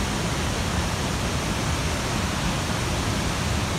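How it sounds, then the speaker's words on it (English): Small waterfalls in a remote wilderness pour with a dense, constant rushing roar, close and loud, with no voices over it. "All these little teeny tiny waterfalls."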